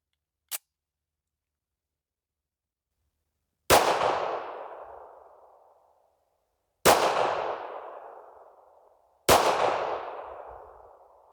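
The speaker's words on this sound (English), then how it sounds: "That was my first time ever shooting my 1911, and I think it shoots pretty good." A 1911 pistol fired at targets: a brief sharp click, then three loud, separate gunshots spaced a few seconds apart, each with a long, ringing decay that fades out before the next.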